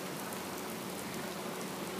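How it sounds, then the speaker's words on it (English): Heavy rain pours down steadily on parked cars at a roadside tourist stop in South Carolina, a dense, even hiss with no talk. "Look how hard it's raining."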